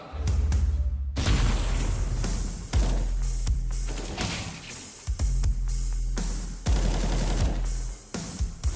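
Rapid bursts of automatic rifle fire and single headshot taps from a CS:GO match on Inferno between MIBR and Cloud9, loud and close, repeating in clusters with brief gaps throughout.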